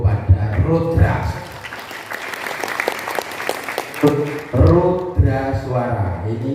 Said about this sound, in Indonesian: tepuk tangan dulu pada Rudra